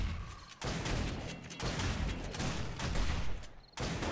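In the video game 7 Days to Die, dense shotgun fire booms in loud, overlapping bursts during a horde night fight. Near-continuous volleys are broken by brief gaps.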